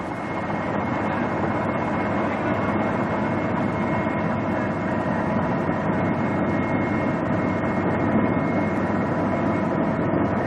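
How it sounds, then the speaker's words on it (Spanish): A steady, loud helicopter engine drone with a constant low rumble and whine, continuing without pause. "Al oír el sonido del helicóptero,"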